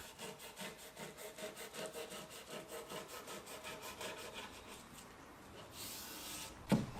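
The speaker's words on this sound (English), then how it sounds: "I can then trim away the excess foam with a sharp knife." A sharpened butter knife saws back and forth through excess upholstery foam on a small cat or dog sofa, giving a steady run of close, rhythmic rasping strokes with a brief sharp knock near the end.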